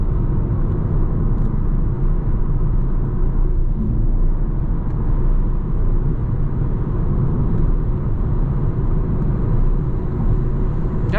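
A car on a test drive rumbles along with its engine running, a steady low drone of engine and road noise filling the cabin, constant and loud throughout with no talking.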